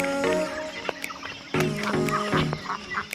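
Hens and chickens cluck on a village farm, with repeated close clucks and calls in bursts over outdoor background noise, with no talking.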